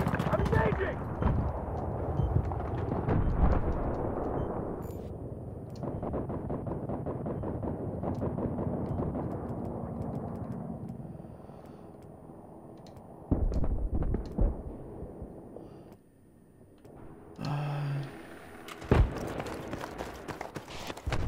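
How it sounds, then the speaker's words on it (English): Large explosion in the video game Battlefield 3 during a Conquest match, a loud booming burst among ongoing gunfire and battlefield clatter, with a player talking over the action. "Wow, that's a big explosion."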